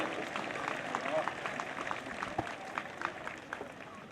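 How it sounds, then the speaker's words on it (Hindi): Audience applause at a police PAC battalion passing out parade, a fairly quiet, steady spread of clapping heard from some distance, with faint voices mixed in. "तालियां बजाएं इनके लिए।"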